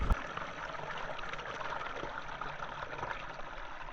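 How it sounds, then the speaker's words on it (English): A small mountain stream in the Lake District trickles continuously with soft, fizzy water noise, close and steady at moderate volume, with no voices. "Gonna grab some water from this stream, which is honestly not a very big stream."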